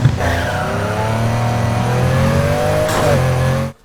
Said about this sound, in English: I also really like the sound of this